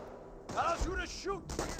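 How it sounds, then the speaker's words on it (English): Gunfire in the World War II strategy game Company of Heroes 1: two sharp bursts of shots, with shouted in-game soldier voice lines in between. "Incoming gunfire."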